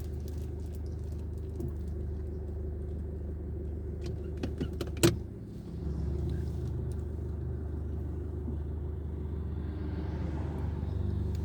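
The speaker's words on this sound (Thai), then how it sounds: "ขับต่อไปอีก 15กิโลเมตร" A car drives along a road toward Ayutthaya, giving a steady low engine and road rumble inside the cabin. A brief clunk comes partway through, and the drone stays constant throughout with no talking.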